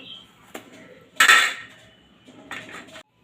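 Pointed gourd (potol) cut with a knife on a hard surface, with a few close, sharp clicks and one louder scraping slice in the middle.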